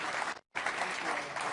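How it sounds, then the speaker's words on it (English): Sustained audience applause for President Zelensky at a policy and business summit in London, a steady wash of clapping broken by a brief dropout. "I don't know if you can hear the applause."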